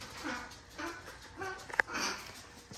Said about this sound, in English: Yes, our dog makes very strange sounds.